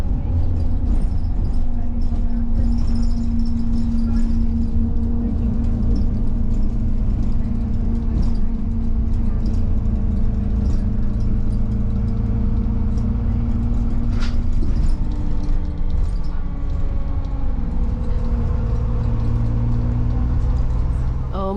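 Road traffic rumbles steadily past a bus stop, engines whirring close and continuous for the whole stretch, with faint voices occasionally mixed in.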